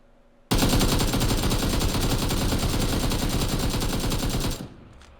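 AK rifle fired on full auto in PUBG: one loud, unbroken automatic stream lasting about four seconds, close and dense, cutting off abruptly into quiet.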